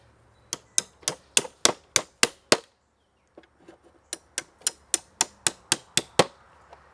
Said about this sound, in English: You do need to have a hammer in order to set this trap.